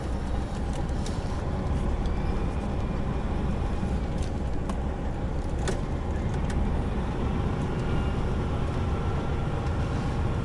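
A vehicle towing a trailer reverses slowly down a widened rural track, its engine a steady low drone under broadband rumble, with a few faint knocks and creaks along the way and no talking.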